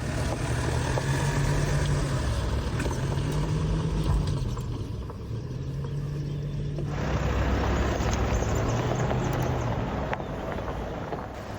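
A car passing in quiet Caucasus mountain countryside with wind: a steady broadband rush with a low engine hum rising and falling, growing fuller midway, with no talk.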